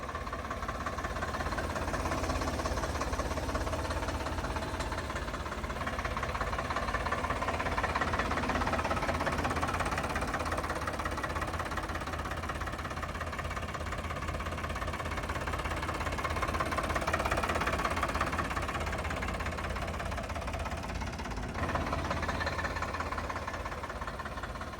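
A 2021 Powertrac Euro 50 Super Max tractor with 340 hours of use runs steadily, its diesel engine knocking and rumbling in a continuous low drone, close by and unbroken.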